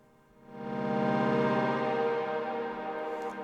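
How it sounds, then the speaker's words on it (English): A sustained, droning tone from looped audio swells in and holds, washed in echoing delay and reverb effects on an iOS music app, smooth and unbroken for a few seconds. "let's send that to the delay and the reverb"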